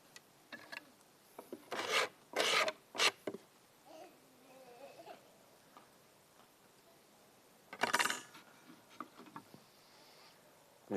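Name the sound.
filing, emery-sanding and polishing a piece of scrap metal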